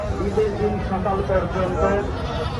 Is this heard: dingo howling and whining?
no